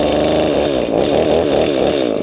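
A toy chainsaw runs with a steady buzzing, revving motor whine, close and continuous for a couple of seconds with no talk.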